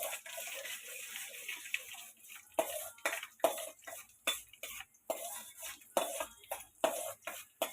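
A spoon scrapes and taps against a pan while bottle gourd curry is stirred, a faint series of irregular clinks and knocks that grows more rhythmic in the second half, with no voices.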